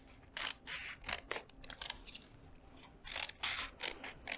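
Scissors snipping slits into folded paper for a paper lantern, a series of crisp close cuts in uneven bursts with short pauses between, no talking.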